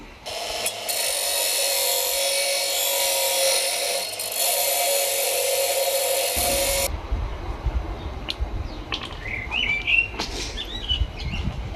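A power tool grinds and cleans up a metal front mudguard bracket for a Yamaha XJ600: a loud, continuous abrasive whir for about six seconds that stops abruptly, followed by quieter handling noises and faint scrapes.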